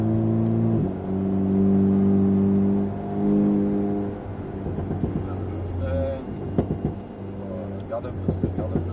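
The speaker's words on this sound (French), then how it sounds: "Commence à accélérer, on va bien chercher l'intérieur et accélère de plus en plus." An Alpine sports car's engine drones steadily in the cabin on a race track at Alès, then revs climb and surge with gear changes under hard acceleration while a voice talks over it.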